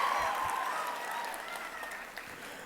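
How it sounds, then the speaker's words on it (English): An audience at Yale University bursts into applause, a dense wash of clapping that starts strong and tapers slightly over a few seconds, heard at a distance in a large hall. "please give me claps for this new word that I've taught Yale"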